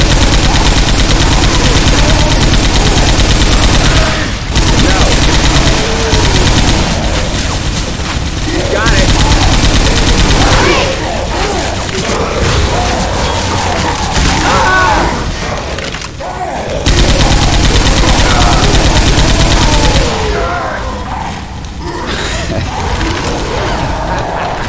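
Players in the Left 4 Dead 2 zombie shooter firing at the Tank, dense continuous automatic gunfire with mechanical clatter and thuds, loud and close, with voices talking over the shooting.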